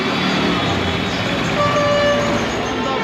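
Busy, chaotic city traffic in Bangladesh with engines rumbling and a sustained car horn sounding partway through, over a constant roadway din.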